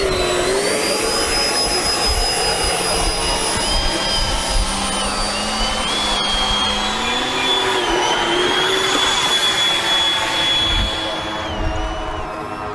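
An FMS Rafale 64mm electric ducted fan RC jet taxis out, its loud, constant high-pitched whine close by with the pitch shifting slightly as throttle changes, and no talking over it.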